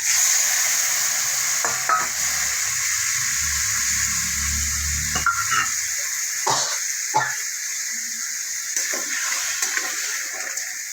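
Crabs cook down in a thick masala, a steady hiss of frying under intermittent scraping and clunking as a spatula stirs the pan, close and fairly loud, with no voices.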